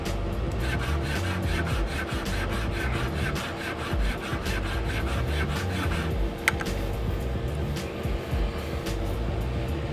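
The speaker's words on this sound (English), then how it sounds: "This specific trimmer blade on average will take 30 seconds to 1 minute to modify." A Wahl barber trimmer blade being modified by filing, its metal rasped in fast, steady back-and-forth strokes that repeat evenly and close up for the whole stretch, with no one talking.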